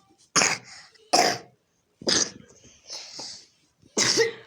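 A child coughs in several sharp, close bursts, each rough and explosive, separated by short pauses with a softer breathy sound between them.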